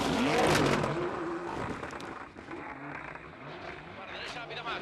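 Carlos Sainz's rally car charging through a corner on a rally stage in Australia, a loud engine roar and gravel scrape up close that quickly fades, with a voice talking over it.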